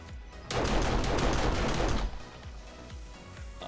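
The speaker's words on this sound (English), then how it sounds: "That fired off 8 rounds and the heat didn't go up a single percentage" A video game gun fires a rapid burst of eight rounds, loud and dense, lasting about a second and a half before cutting off, with fainter clicks and game ambience continuing afterward.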